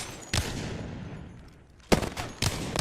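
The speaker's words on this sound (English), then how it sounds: "So here, I'm shooting a target, holding mouse 1." Weapons fire in the video game Apex Legends as sharp, loud shot bursts, one early and two later close together, with a lingering echo tail between them and no voices.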